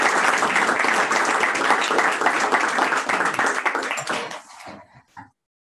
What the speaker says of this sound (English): There's another special round of applause.